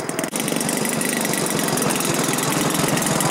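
A 40% scale YAK-54 model airplane engine idles nearby with a steady, rapid, buzzing chatter that stays even throughout.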